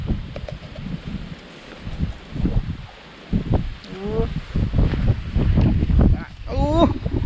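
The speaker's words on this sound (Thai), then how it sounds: "ลมได้มาก" Strong wind gusting across an open rice field during a rainstorm, a loud, steady rushing roar with buffeting on the microphone, and people talking over it.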